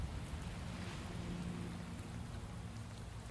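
Rain pouring down in the video game Shadows of Doubt, a dense, steady hiss of falling water that stays fairly faint and unbroken throughout, with no other sounds standing out.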